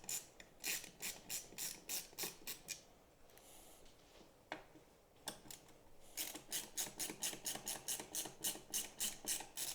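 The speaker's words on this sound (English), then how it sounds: "Now I'm taking the top row silver screws out first because they're all number 2 Phillips." A screwdriver backs out number 2 Phillips silver screws from the backlight panel of an older early-generation TCL 65-inch TV, a close, rapid ratcheting click-click in steady bursts, pausing midway, then resuming in a fast even rhythm.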